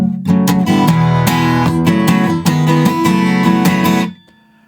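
Guitar chords from a song are strummed briskly, starting tight and palm muted, then ringing out fuller and brighter, close and loud, before cutting off into a short fading tail with no voice.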